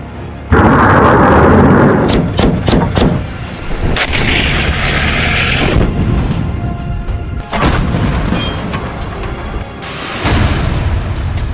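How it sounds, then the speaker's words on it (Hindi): Heavy explosions and artillery-like booms from drone, rocket and missile strikes on Kyiv, loud and close, with repeated sharp blasts and rumbling bursts recurring across the stretch. "ड्रोन और रॉकेटों से एक साथ हमले हो रहे हैं।"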